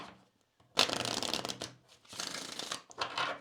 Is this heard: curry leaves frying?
no